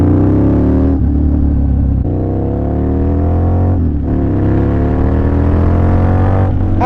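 A Harley-Davidson V-Rod muscle cruiser motorcycle engine revs up repeatedly, each deep rising roar breaking off briefly before climbing again, loud and close throughout.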